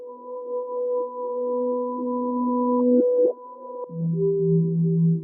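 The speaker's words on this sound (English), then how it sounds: "I just moved it over and reversed it." A reversed melody snippet in shamanic house production plays as a transition: sustained synthetic tones hold steady, then shift pitch abruptly twice near the end, clean and unaccompanied.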